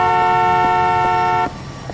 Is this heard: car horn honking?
yes